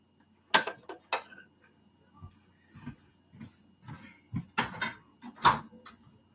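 Kitchen microwave door handled while cooking mac and cheese, a series of sharp, close clicks, clunks and knocks spread unevenly over several seconds in a quiet room.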